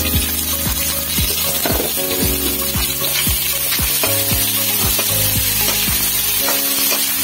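Kuhol snails sautéing in a pan give a steady close sizzle, punctuated by repeated sharp clicks and scrapes of a utensil stirring, with a low tonal hum running underneath throughout.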